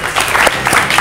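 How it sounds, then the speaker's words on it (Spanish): Brief burst of audience applause in a studio, dense clapping from a group that stays loud throughout. "Y le vamos a dar un aplauso."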